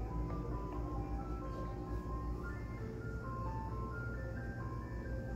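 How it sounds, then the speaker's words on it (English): An ice cream truck's chime melody plays in the background, its tune steady but faint beneath a constant low rumble inside a racing homer pigeon loft, with no talk over it. "ice cream truck on the background, you can hear that"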